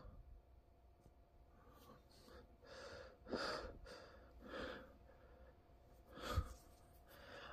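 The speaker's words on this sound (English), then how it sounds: "Who's breathing behind me?" Soft, raspy breathing heard close by, a series of slow breaths and snort-like inhales swelling and fading over several seconds in a quiet room, with no talking.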